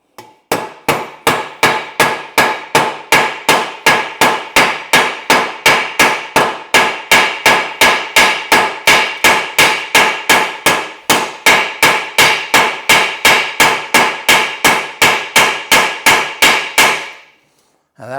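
A hot rivet head on a bicycle project bracket is hammered down with rapid, evenly spaced metallic blows, about three per second, loud and close, continuing for many strikes before stopping.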